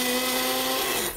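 Blender whirring steadily as it mixes a protein shake with ice cubes and banana, a loud continuous motor drone with a sharp tonal whine that holds for over a second, then cuts down at the end.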